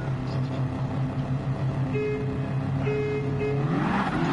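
A car horn toots over a steady roar of racing engines in the video game Gran Turismo 7, with brief tonal honks cutting through the continuous motor noise.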